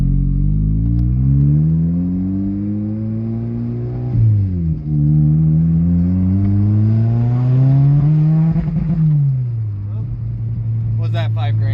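A turbocharged Toyota MR-2 Spyder engine revving at full throttle, its loud, close exhaust tone climbing and dropping in several long sweeps, with a shift-like dip in between.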